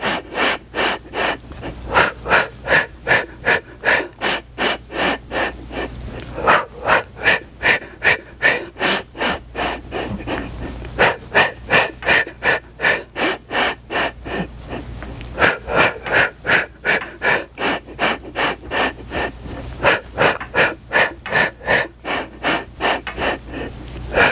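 Deep, forceful breaths during an advanced Pilates reformer workout, a regular rhythm of loud inhales and exhales repeating about every half second, close and alone with no talking.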